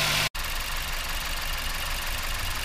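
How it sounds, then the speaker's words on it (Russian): A Mazda CX-7 engine holds a steady, dense running roar at high revs during a Dimexide engine flush, with one brief dropout near the start. "Сейчас домоем его двигателя на высоких оборотах с димексидом"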